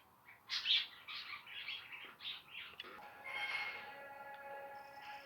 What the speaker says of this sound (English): I'm gonna close the door because the birds are really noisy.